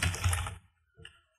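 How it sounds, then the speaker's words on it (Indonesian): Keystrokes on a computer keyboard come as a quick burst of clicks, then a short pause and a second brief flurry, close and fairly quiet with no talk. "Di sini saya akan mengetik"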